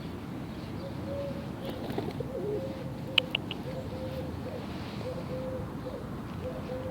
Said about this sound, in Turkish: Çok güzel bir kuş.